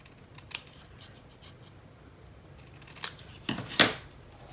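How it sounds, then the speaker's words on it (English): Scissors trimming the corners of paper card for a flip album, a few sharp crisp snips spaced out over near-silence, loudest at the end. "I'm actually going to trim my corners a little bit"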